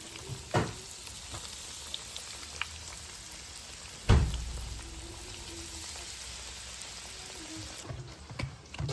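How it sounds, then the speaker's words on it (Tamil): Rolls fry in hot oil, giving a soft continuous sizzle and crackle at low level, with a few louder clunks and stirring knocks now and then; no speech. "இந்த தூள் அப்படி கொட்டிட்டு எண்ணெய்க்கு போட்டால் தான் அது வந்து கருகாமல் பொரியும்"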